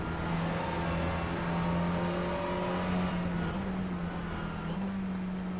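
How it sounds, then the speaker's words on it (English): An Audi touring car engine in a TCR sim race at Mid Ohio, holding a steady high drone with tonal whine and slight pitch shifts as it runs continuously, loud and close throughout. "You don't want that Audi bearing down on you."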